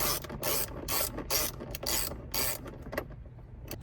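Ratchet tightening a bolt on a mirror mount of a Jeep Gladiator, with a series of close, loud clicking strokes in rapid bursts before trailing off.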